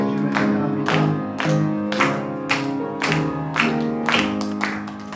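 A church congregation claps in an even, regular rhythm while singing a hymn together during a Sunday service, with the clapping and voices blended at moderate loudness.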